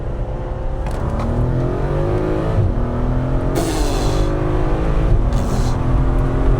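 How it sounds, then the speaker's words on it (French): A Volkswagen R32 accelerates hard up a highway on-ramp, heard from inside the car: the engine pitch climbs steadily with brief breaks between gears, loud and continuous throughout. "il y a une petite voie d'insertion là, je vais pouvoir faire une petite accélération"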